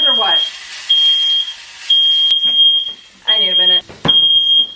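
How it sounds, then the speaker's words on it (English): A piercing high electronic alarm beeps in repeated long bursts, loud and close, with a person talking between and over the tones. "my smoke alarm somehow will always manage to go off"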